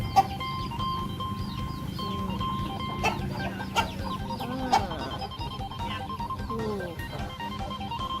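Fighting roosters and hens cluck steadily in a rural coop, with scattered sharp calls and short squawks over a busy, continuous background of bird noise.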